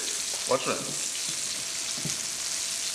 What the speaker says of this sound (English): All I can hear because all that frying thing going on here